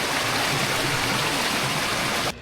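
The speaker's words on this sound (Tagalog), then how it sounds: "Isang malakas at tuwid na pagbagsak ng tubig mula sa bangin." Awasen Falls, a tall waterfall in the mountains of Sigay, Ilocos Sur, roars as a steady, loud broadband rush of falling water that stays close and continuous, then cuts off abruptly near the end.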